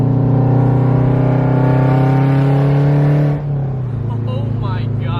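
Supercharged Scion FR-S on a bass tune running 91 octane pulls hard under acceleration, its engine note rising steadily and loud, then easing off to a lower drone as a voice speaks over the end.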